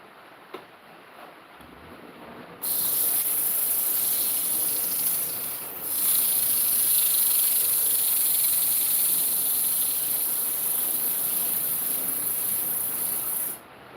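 A Fine by Tool FL21 wood lathe spins in reverse while a piece is sanded with sandpaper, a loud steady whirring hiss that starts abruptly, swells midway, and cuts off near the end.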